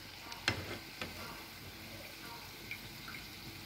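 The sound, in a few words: aloo chop frying in mustard oil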